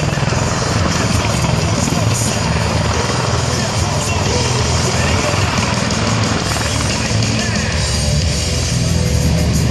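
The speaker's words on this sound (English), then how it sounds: "The MV-22 Osprey, a sight to see." An MV-22 Osprey tiltrotor flies at the Chicago Air and Water Show, producing a loud, continuous rotor drone and thrum that fills the air. Voices can be heard beneath the noise.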